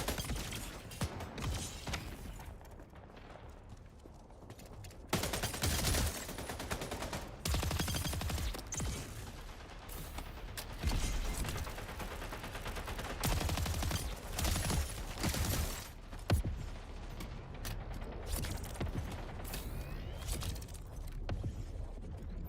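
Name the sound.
weapon gunfire in the video game Splitgate 2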